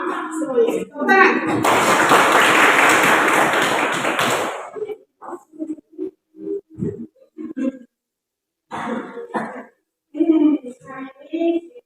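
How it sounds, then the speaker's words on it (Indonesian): A classroom of Indonesian students breaks into loud, dense applause lasting about three seconds, then a teacher speaks in short phrases with pauses. "Tepuk tangan."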